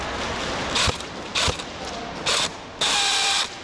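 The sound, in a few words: SR25 airsoft gun mechanism sounding faulty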